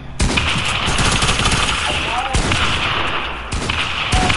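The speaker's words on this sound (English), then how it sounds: "We're just shooting at you." Rapid automatic gunfire in a trios-mode video game, loud sustained bursts of rattling shots with short breaks, a voice speaking briefly amid the firing.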